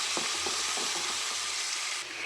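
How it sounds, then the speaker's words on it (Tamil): Chopped onions and curry leaves sautéing in oil in a pan after mustard seeds have spluttered, a steady moderate sizzle with a few light stirring clicks, no voices. "கடுகு பொரிய ஆரம்பித்த உடனே நம்ம கட் பண்ணி வச்ச வெங்காயமும் கருவேப்பிலையும் சேர்த்துக்கலாம். அதையும் நல்லா வதக்கிக்கலாம்"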